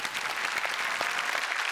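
Dense, steady applause from an audience welcoming a film team onto a stage, many hands clapping evenly throughout with no pause.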